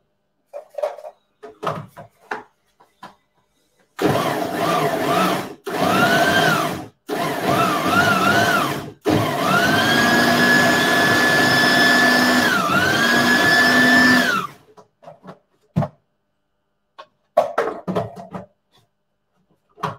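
A kitchen blender runs loudly in several bursts, starting and stopping a few times before settling into one long steady whir that ends abruptly, with quiet gaps and faint sounds on either side.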